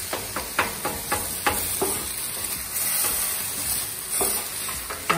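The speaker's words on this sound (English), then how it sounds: "today we're doing a griddle fried burrito" A chicken chimichanga sizzles on a Pit Boss five-burner flat top griddle while a metal spatula scrapes and taps in quick irregular strokes over a constant frying hiss.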